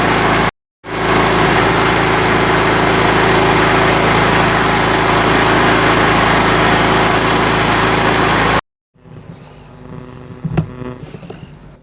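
A gas-powered portable electric generator engine drones loud and steady under load, briefly cutting out near the start, then stopping after about eight seconds, leaving quieter mechanical clanks.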